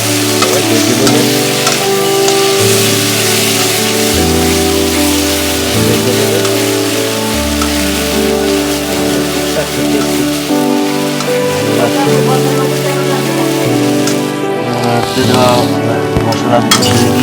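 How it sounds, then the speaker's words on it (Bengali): Kakrol (spiny gourd) frying in a pan gives a loud, steady sizzle that runs without a break, with a low hum beneath it and no voices. "আগে সবাই ভেজে নেবেন।"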